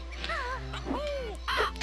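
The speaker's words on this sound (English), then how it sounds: "You still have these annoying little bird guys" Bird enemies in Banjo-Kazooie giving harsh caws, several squawks in a row, then a louder one near the end, over a low steady game hum.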